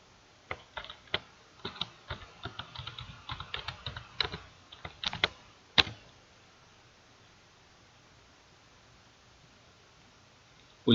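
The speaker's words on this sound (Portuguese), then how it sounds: "Vou digitar minha senha" A password is typed on a computer keyboard: a quick run of close, crisp keystrokes with a louder final key press, followed by several seconds of near silence.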